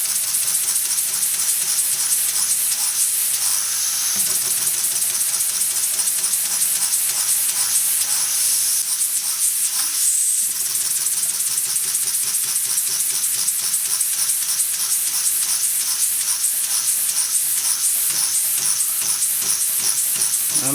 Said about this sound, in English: So yes, I'm losing a lot of steam there, as you can see